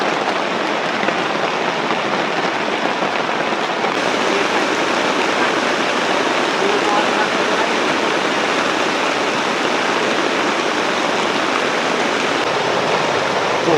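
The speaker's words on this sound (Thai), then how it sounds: "น้ำกำลังมาน้ำนี่นะ" A stream rushes with storm runoff after heavy rain, a steady, loud broadband roar of flowing water that never lets up, close by and with no talking.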